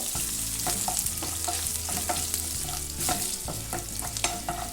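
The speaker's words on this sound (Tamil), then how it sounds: "நசுக்கி வச்சுருந்த பூண்டு, கருவேப்பிலை நல்லா சேர்த்து ஃப்ரை பண்ணிக்கலாம்" Crushed garlic and curry leaves fry in oil in a pan over low heat, giving a close, steady sizzle with frequent stirring scrapes and light clinks throughout.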